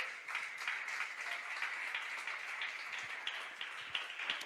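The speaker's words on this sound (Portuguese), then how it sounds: "Pode aplaudir o nome do Senhor?" A church congregation applauds after a sermon prompt, a continuous wash of many hands clapping, moderately distant and evenly sustained.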